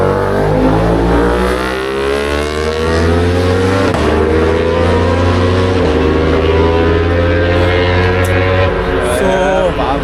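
Sports bikes take off at night near Bangalore's airport, their engines revving loudly with rising pitch in a sustained, close roar that builds over several seconds.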